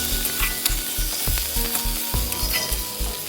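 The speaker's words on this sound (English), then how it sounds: "Once the garlic is cooked, add the onions to it. Fry everything together." Garlic and onions fry together in a pan with a strong, steady sizzle, punctuated by rhythmic spatula scrapes and taps against the pan at close range.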